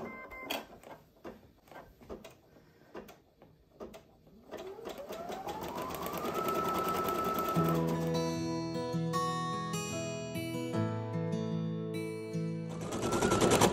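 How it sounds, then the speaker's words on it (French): An embroidery machine stitches a free-standing lace rainbow charm in mint-coloured thread, starting with separate taps, then settling into a fast, steady mechanical whir with a rising motor tone. "Surtout, n'enlevez pas le petit fil sans arrêter la machine."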